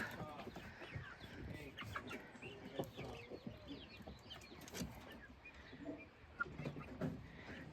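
Young Ameraucana and Rhode Island Red pullets cluck softly in an intermediate coop, a faint, scattered flurry of short calls overlapping at low level.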